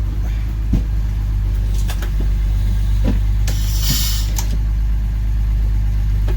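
A prewar Silversides bus brakes hard on its first drive. Under a loud, constant engine and road drone come scattered clunks and knocks, then a brief hissing burst near the end.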